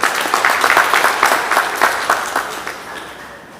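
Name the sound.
audience applause at a meeting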